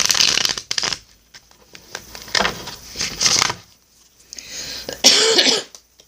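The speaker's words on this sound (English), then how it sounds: "I'm doing a lot of coughing lately." Several coughs and throat-clearing bursts come close and loud, separated by short pauses, with no talking in between.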